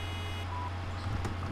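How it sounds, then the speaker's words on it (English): Reversing beeps from a vehicle in Farming Simulator 2013, a faint steady tone sounding briefly over a low engine hum, with no voices. "It beeps again."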